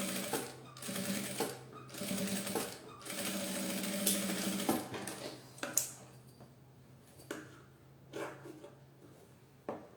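Up close, a sewing machine stitches a zipper pouch lining in short rapid runs, then stops and gives a few brief clicks and handling noises.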